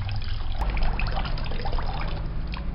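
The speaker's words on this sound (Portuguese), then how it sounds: "Vou tirar a água daqui agora" Water is poured out during a Torricelli experiment, giving a continuous trickling, gurgling stream that stays steady and close throughout.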